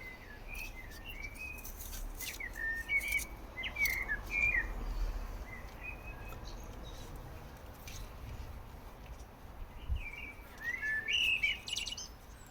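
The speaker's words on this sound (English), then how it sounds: "I'm sure you can probably hear them in the background, but we have quite a lot of birds visit the garden." Garden birds, among them pigeons, blue tits, robins and crows, chirp and sing in scattered bursts over a soft outdoor hush, some calls nearby and others faint in the background.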